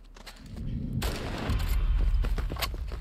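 Gunshots and rapid bursts of gunfire ring out in The Last of Us Part 2 Remastered, loud and continuous over a low rumble for about two seconds.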